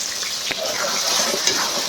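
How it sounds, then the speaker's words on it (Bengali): Bitter gourd curry being stirred in a pan with a little water added, giving a soft wet sloshing and bubbling with a few small clinks, close and moderate in level. "হালকা পরিমাণে জল দিয়ে দিচ্ছি, দিয়ে এই যে একটু নাড়াচাড়া করে দিচ্ছি"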